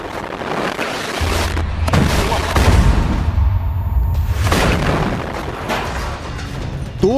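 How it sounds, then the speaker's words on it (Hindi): Explosions and blasts in war footage from Gaza, with repeated heavy booms and rumbling impacts, some near and loud, others more distant, over continuous low noise. "बहुत से हमले हैं, बहुत से धमाके हैं।"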